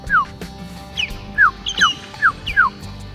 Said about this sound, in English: That's an osprey call there,